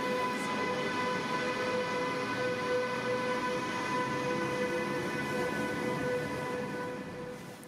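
Electric locomotive 101 071 departs Frankfurt Hauptbahnhof, rolling past steadily with a sustained mechanical rumble and high whining tones, holding loud throughout before easing slightly at the end.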